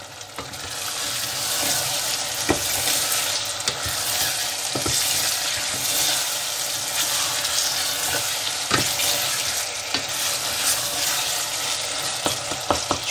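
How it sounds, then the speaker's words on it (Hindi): Okra (bhindi) sizzles with masala in a pan while being stirred, a steady, close frying hiss broken by scattered clicks and scrapes of the spoon, no voices. "भिंडी डाल के फिर इनको भूनेंगे 5 मिनट, ताकि जो मसाला है वो भिंडी के अंदर अच्छी तरह चला जाए।"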